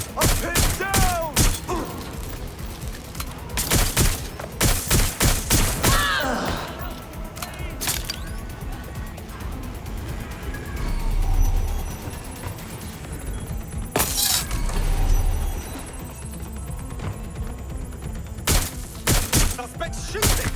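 Gunfire in the Watch Dogs Legion video game: sharp bursts of shots crack out in clusters near the start and again around the middle and end, with breaking-glass and thudding impacts between them and brief voices.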